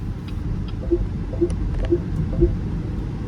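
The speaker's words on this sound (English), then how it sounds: "So just now is the forward collision warning because there's a car parked on the side of the road" Forward collision warning in a 2025 BYD M6 sounds as a series of four short, evenly spaced soft beeps over steady road and cabin hum while driving.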